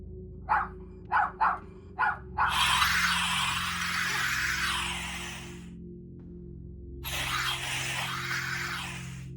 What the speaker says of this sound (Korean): 가슴을 쬐어오는 하이톤의 개짖는 소리가 울려 퍼진다